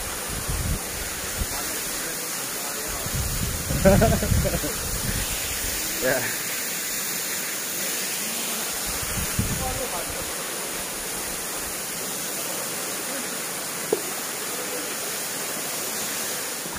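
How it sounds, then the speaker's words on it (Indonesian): Waterfall on the Sungai Pangin river deep in a Kalimantan forest, a steady broadband rush of falling water filling the scene, with brief voices and a short spoken word over the roar. "kita berada di air terjun Sungai Pangin"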